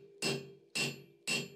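Three evenly spaced heavy hammer blows on hot steel during blacksmith forging of a shepherd's crook, each a sharp ringing strike that decays quickly, close and clear with no talk.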